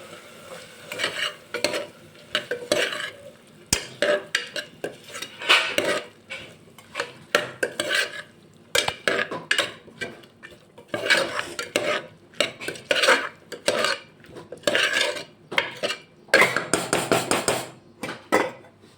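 Cluster beans being stirred into tomato masala in a pan for a Kathiyawadi-style guvar dhokli curry: rapid bursts of metal spoon scraping and clattering against the pan, close and loud, with faint sizzling in the pauses.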